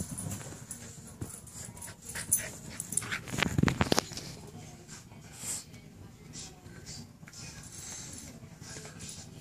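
An Australian Silky Terrier pants and whimpers close by, with bursts of rustling and movement.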